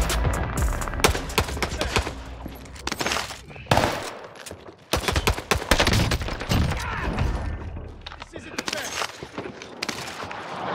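Rapid SMG bursts in Call of Duty Vanguard Warzone on Rebirth Island, loud, repeated volleys of fire with sharp cracks and short gaps, a voice talking over parts of the fighting.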